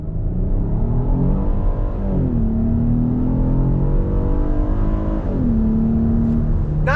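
A 2022 Kia Carnival SX minivan pulls away hard under throttle, its engine note rising steadily and continuously, dropping back as it shifts gears, then climbing again, heard loud and close with no talking.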